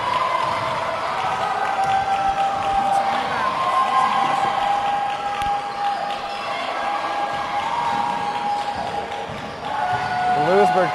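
A crowd at a varsity boys basketball sub-state game between Louisburg and Baldwin cheers and murmurs steadily, with ball bounces and a commentator talking over it.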